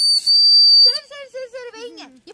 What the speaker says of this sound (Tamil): பரவாயில்ல, விசில் கிடைச்சிருக்கு.